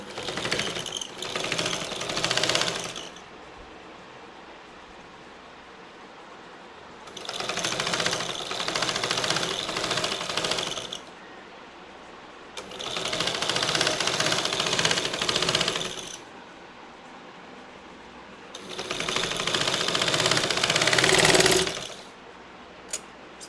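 A sewing machine stitches piping made from a cross-cut fabric strip onto a churidar sleeve in four steady whirring runs of several seconds each, separated by quiet pauses. It is loud and close, with no talking.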